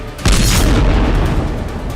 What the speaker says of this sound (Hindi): धमाके की आवाज से पूरा इलाका थर्रा उठा